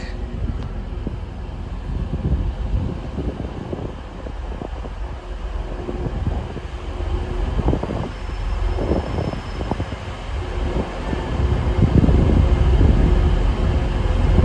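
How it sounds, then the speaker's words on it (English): LNER service to London King's Cross pulling into Darlington station, a steady low rumble of wheels and engine building gradually over the clip, with wind buffeting the microphone and occasional louder thumps near the end. "And also arriving in is a London King's Cross service, LNER service, off to London King's Cross."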